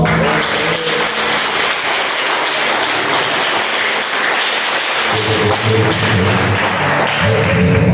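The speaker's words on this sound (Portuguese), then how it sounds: "Dê uma salva de palmas." A church congregation claps after a closing prayer, steady applause filling the room for several seconds alongside some voices, with low instrumental tones entering near the end.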